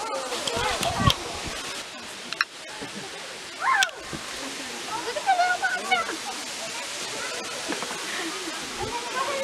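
Water rushes steadily at a waterfall in Petit Jean State Park, a soft, continuous wash under scattered splashes and nearby voices of hikers talking.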